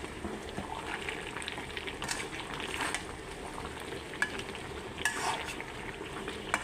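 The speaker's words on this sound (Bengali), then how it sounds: "এই যে গরম মশলার গুঁড়া দিয়ে আমি ভালোভাবে কষায় নেব।" Chicken and cabbage fry with garam masala in hot oil, a constant sizzle with scraping stir strokes and occasional spoon clinks, close and steady.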